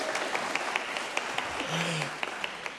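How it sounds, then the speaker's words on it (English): Audience applause at an evening Royal Academy symposium session, a thin scattering of separate claps with a faint, sparse texture and a brief low voice-like tone partway through. "So another round of applause for Igor"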